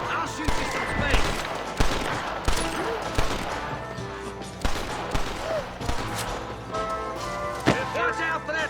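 Covering gunfire in the Western video game Red Dead Redemption: repeated sharp rifle and pistol shots crack in irregular bursts, some near and some distant, under a dense backdrop of battle noise.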